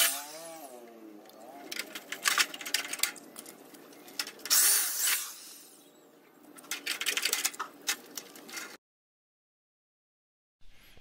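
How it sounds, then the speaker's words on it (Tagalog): A drill fitted with a tek screw adapter drives tek screws into doubled metal furring for a DIY metal-stud gate, sounding as several loud whirring bursts of a few seconds each, followed by a short silence. "gumamit ako ng tech screw adapter na nakabit sa drill tulad nitong nakikita nyo sa video para maikabit ko yung metal faring"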